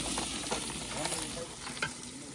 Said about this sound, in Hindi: आज पहले लहसुन डाली है, फिर ये जो खड़े मसाले हैं वो डाल दिए हैं।